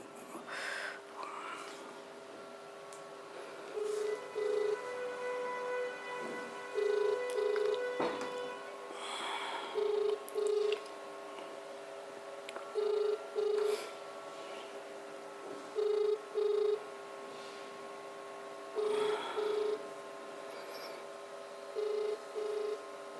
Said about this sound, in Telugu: అన్నగారికి ఫోన్ చేద్దాం ఒకసారి